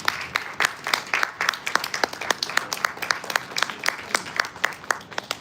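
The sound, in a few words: audience applause for a pageant guest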